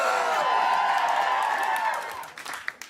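Convention panel audience applauding and cheering, a loud crowd with clapping and whoops that fades out, leaving a few scattered claps at the end.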